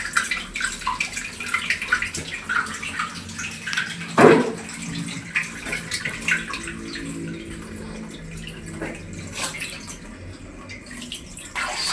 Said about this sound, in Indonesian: Isikan air lagi teman-teman ya, untuk tes lagi apakah benar-benar sudah aman.